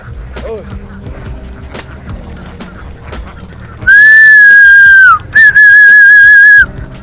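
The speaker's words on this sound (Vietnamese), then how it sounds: "Mấy vịt rất là sợ tiếng hít sáo nè," A person herding ducks on a flooded river blows two long, loud, piercing whistles in the second half, with a short break between them, after a stretch of quieter background sounds and faint voices.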